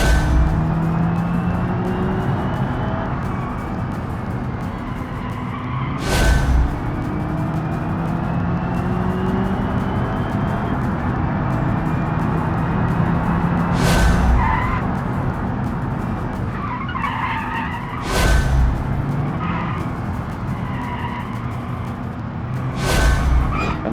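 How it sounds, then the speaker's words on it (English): Car tires burning out and skidding in the BeamNG driving game, a loud continuous squeal over a droning engine with several sharp thumps spaced through the run, and no voices. "Certainly hope no one expects to get these tires back. Gotta burn them right out."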